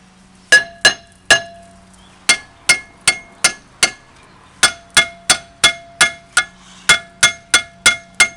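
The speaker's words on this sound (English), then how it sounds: "I want to just give it a tap, roll it around to try to break the rust weld free on the rotor." A hammer taps a rusted front brake rotor on a 2010 Dodge Challenger SRT8 to break the rust weld free. Loud, ringing metallic strikes come in a quick, fairly even series of about twenty, each with a short clang decay.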